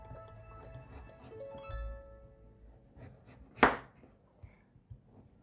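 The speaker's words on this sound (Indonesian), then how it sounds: "We cut off all the skin." A knife cutting the skin off a winter melon, quiet scraping and slicing sounds with one sharp louder cut near the end, a few soft taps after it.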